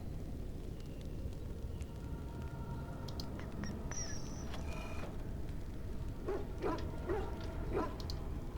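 A dog in the Dragon Age: Origins video game gives a few faint, high whimpers and yips over a steady, dense background of game ambience and music, with no talking.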